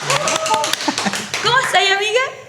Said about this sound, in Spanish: Un fuerte aplauso para Esther.